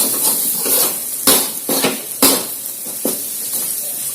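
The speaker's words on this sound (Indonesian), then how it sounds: "Aduk lagi." Utensil scraping and tapping in a pan while octopus (boboca) with sliced spices cooks Manado-style, several sharp clanks over a steady sizzle-like hiss.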